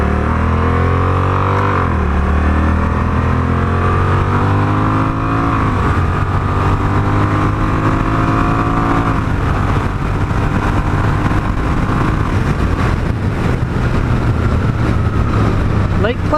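A Honda Rebel 1100 motorcycle with a DCT dual clutch transmission shifts itself down through the gears on the road, the engine note stepping down in distinct drops before settling into a loud, steady drone with wind noise.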